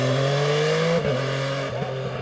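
A 2016 MV Agusta Brutale 800 motorcycle engine revs up loudly and close, its pitch climbing steadily before dropping and rising again between gears.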